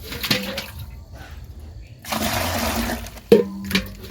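About four litres of water poured out for preparing a boro paddy seedbed, a short splashing gush near the start and a fuller steady pour midway, close and moderately loud with a brief clatter at the end.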